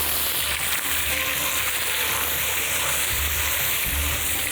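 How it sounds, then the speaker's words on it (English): Onions frying in melted butter on a hot pan make a loud, dense, continuous sizzle with faint stirring thumps underneath, heard up close and without speech. "Okay, now the butter is melting, so now you can start adding the onions into it"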